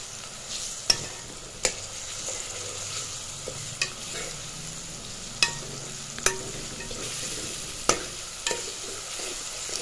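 Grated turmeric and garlic fry in a pan with a steady, soft sizzle, while a spoon gives intermittent sharp clinks and scrapes against the pan as the mixture is stirred.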